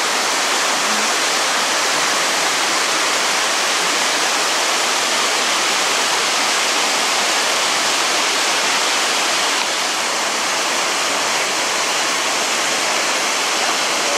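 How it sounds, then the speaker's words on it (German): The Romkerhall waterfall in the Oker valley roars without pause, a loud, dense broadband rush of falling water heard up close with nothing else over it. "Das war übrigens der Romkahaller Wasserfall."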